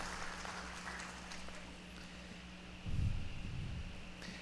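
Faint applause from the audience at a public-sector directors' panel event, a soft, steady patter of clapping that swells briefly toward the end.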